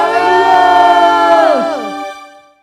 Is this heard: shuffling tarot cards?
no